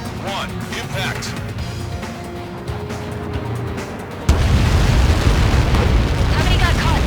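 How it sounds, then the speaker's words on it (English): In the aerial combat game Ace Combat 7, a steady roar gives way midway to a sudden loud explosion that keeps booming and rumbling heavily until the end. "How many got caught in that explosion?"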